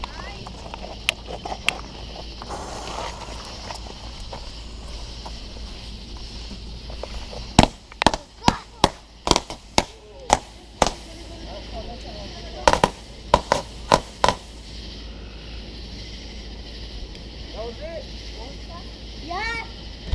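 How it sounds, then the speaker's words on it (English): A 48-shot shooting star firework cake at a Fourth of July backyard show fires in a fast series of sharp, loud cracks close by, coming in bursts with short pauses, with people talking over the barrage. "This is a 48 shot shooting star."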